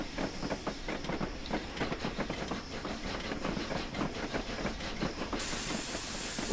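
The Flying Scotsman steam locomotive in the Train Sim 2020 video game runs steadily with a constant hiss of steam and a rhythmic clickety-clack of wheels on track, close and continuous with no talk.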